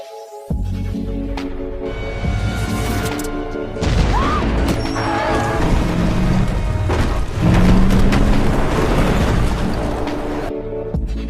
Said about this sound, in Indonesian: mereka harus secepat mungkin meledakkan terowongan itu